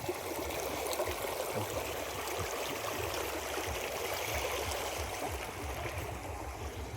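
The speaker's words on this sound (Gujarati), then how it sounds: "આપણી નહેર પર દાંતીવાડા જલાશયમાંથી પાણી આવી રહ્યું" Canal water fed from the Dantiwada reservoir rushes and gurgles continuously, a steady broad wash of sound like a canal current, with no voices.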